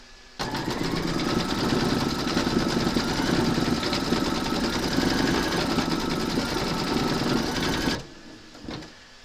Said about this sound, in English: We're now going to stitch round number 11, and that's going to do the quilt details on his belt.